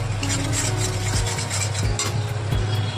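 Cashew paste being stirred into a paneer curry in a pan, with a steady scraping, stirring texture over a constant low hum, repeated strokes every half second or so, close and fairly loud with no talk.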